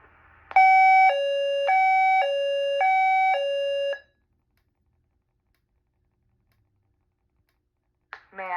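Notifier AM2020 fire alarm panel tone, a loud two-pitch alternating electronic pattern repeating about four times before cutting to silence, with a voice announcement starting at the very end.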